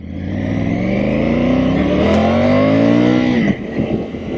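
A Triumph Tiger 850 Sport's 888 cc inline three-cylinder engine revs up with a loud, rising growl, climbing steadily in pitch before easing off near the end.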